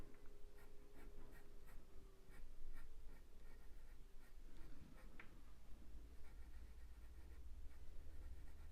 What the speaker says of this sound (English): going up and down with the pencil